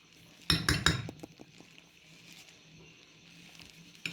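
Ghee worked into nankhatai biscuit dough in a bowl: a quick burst of spoon clatter and clinks against the dish near the start, then quieter scraping and soft stirring.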